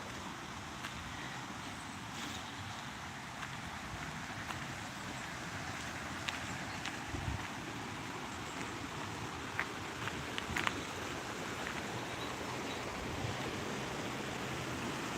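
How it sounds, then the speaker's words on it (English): A waterfall in the woods rushes continuously, a broad steady watery roar at moderate distance with faint scattered ticks and knocks over it. "So here's the main waterfall."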